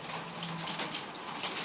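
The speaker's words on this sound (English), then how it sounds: "It's just hail now" Hail falls outdoors in a dense, continuous patter. Scattered sharper ticks of individual stones stand out from the steady wash of impacts.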